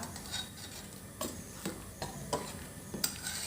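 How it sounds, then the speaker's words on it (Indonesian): Soft scraping and clinking of a utensil stirring cenil, chewy cassava-starch dumplings, as they boil in a wok, with a few sharper knocks against the pan over a low bubbling background, quiet and close. "boleh diaduk ibu-ibu, jangan ada yang lengket nanti di wadah atau di wajannya"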